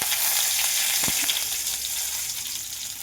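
Urad dal and curry leaves sizzle in hot oil, a steady, close hiss that carries on unbroken with no talking.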